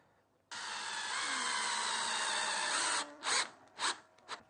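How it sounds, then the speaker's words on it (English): A power drill drives screws into timber for a wooden fishing rod rack: one sustained whirring run of a few seconds, followed by three short trigger bursts, close and clear. "Now we'll put a couple of screws in."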